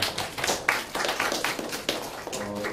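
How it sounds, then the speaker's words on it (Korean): A small group claps briskly and continuously at close range at a symposium, scattered hand claps forming brief, light applause. "큰 박수 부탁드리도록 하겠습니다"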